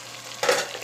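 Fresh okra dropped into a hot pan of spiced masala, a sudden burst of sizzling halfway through that continues as a steady frying hiss, close and clear.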